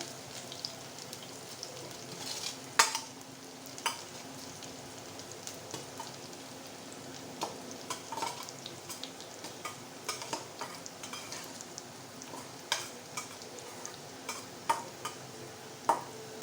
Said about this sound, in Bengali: আমি পেঁয়াজ মরিচটা তিন চার মিনিটের মতো ভেজে নিচ্ছি